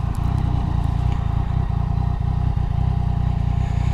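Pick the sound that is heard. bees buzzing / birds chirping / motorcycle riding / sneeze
motorcycle riding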